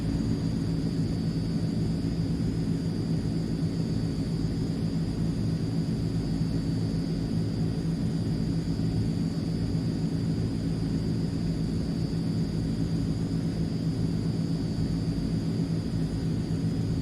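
Steady engine drone of a Transall military transport aircraft on final approach in a flight simulator, a constant loud low rumble with a thin high whine running through, unbroken throughout.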